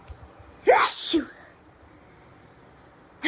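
A single person's sneeze, close and fairly loud: a sharp intake-and-burst followed by a shorter trailing gasp, then quiet room tone before another breathy burst begins at the very end.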